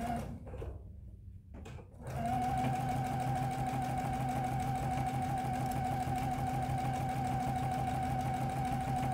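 Sewing machine stitching a quarter-inch seam on a quilt with a quarter-inch foot around a gentle curve, a steady close whirring drone starting about two seconds in after a brief quiet pause and running continuously to the end.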